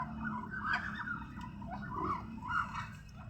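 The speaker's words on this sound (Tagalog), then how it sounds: "Nanghahabol yung patik natin." A turkey gobbles repeatedly in short warbling bursts while chasing ducks in a farmyard, close by and moderately loud over low background noise.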